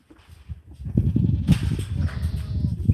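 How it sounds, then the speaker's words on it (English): A goat on a farm bleats repeatedly, loud and close, its wavering cries rising after a quiet start and continuing without pause, with no one talking. "You want to milk the goat, you have to feed it."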